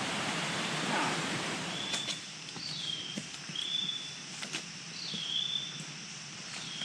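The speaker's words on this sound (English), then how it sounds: "Do you hear that new bird call?" Short repeated tonal bird calls in humid Penang jungle at midday, a few whistled phrases spaced over several seconds against a steady wash of insect and forest noise, moderately distant and not loud.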